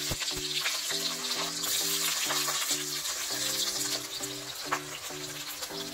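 Onion and cumin seeds frying in hot oil for dhaba-style shahi paneer, a steady close sizzle with faint stirring clicks, and a low musical tune playing underneath throughout.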